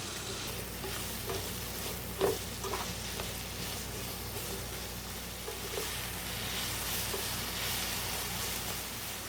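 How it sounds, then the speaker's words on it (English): Onions and green peppers sauté in melted butter, giving a steady, fairly quiet sizzle that runs throughout, with an occasional soft clack of a utensil against the pan and no speech. "I'm going to add my onions and green peppers. And I'm just going to saute these until the onions become translucent"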